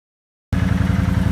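After half a second of silence, a Can-Am quad's engine cuts in close and loud. Its low, pulsing drone carries a rhythmic throb while the rider is underway.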